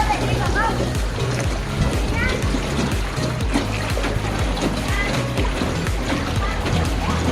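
Motorboat speeding along the Tam Coc River, with a steady rush of engine and water splashing and sloshing against the hull, loud and continuous, while people talk over it.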